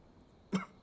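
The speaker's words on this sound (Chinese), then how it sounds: "还是咳嗽不止，难以安寝。" An old man, ill in bed, lets out a single short, harsh cough in a quiet room, fairly close and alone with no talking.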